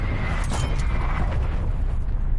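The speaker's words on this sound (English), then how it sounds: "Woods requesting artillery barrage" Artillery barrage in Call of Duty: Black Ops Cold War, a dense, continuous rumble of overlapping explosions and booms sustained loudly throughout, with heavy low-end roar and scattered bursts.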